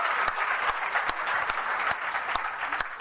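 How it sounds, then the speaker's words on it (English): An audience applauds the participants of a students' day event, a dense wash of steady clapping with a few sharper claps standing out, filling the hall without any voices over it. "Can I have all a loud applause for all the participants who performed so amazingly well?"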